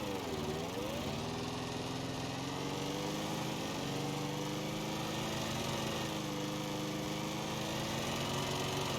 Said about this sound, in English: You can see it has quite the loud little lawnmower engine,